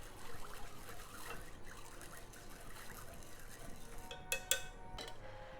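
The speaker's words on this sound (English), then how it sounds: "Give it a stir." A broth of soy sauce, mirin and hondashi stirred in a pot, soft liquid swishing and light utensil scrapes, close and fairly quiet, ending with a few sharper metallic clinks.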